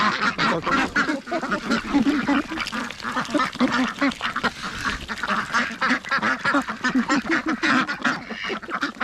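Ducks quack loudly and continuously nearby, a dense chorus of overlapping calls with no pause.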